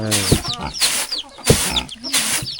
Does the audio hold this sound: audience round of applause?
no